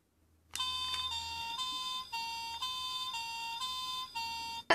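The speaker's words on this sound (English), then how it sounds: "That's the sound of the fire engine." A toy fire-engine messenger plays an electronic siren, a loud buzzy tone stepping up and down in a steady two-note wail for several seconds with no talking, then cuts off with a click.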